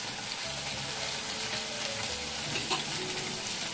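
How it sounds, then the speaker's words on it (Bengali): Potato and cauliflower pieces frying in a pan with turmeric and salt, an even, close crackling sizzle with soft stirring scrapes throughout, no one talking. "এখন এগুলোকে একটু ভেজে নেব। 3-4 মিনিট ভেজে নেব।"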